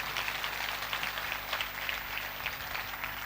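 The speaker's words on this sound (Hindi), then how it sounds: "मुकद्दस मूसा की ज़ात के लिए जोरदार तालियां बजाएं" An audience at a Christian sermon claps in sustained, even applause over a faint electrical hum, the clapping filling the whole moment at moderate distance.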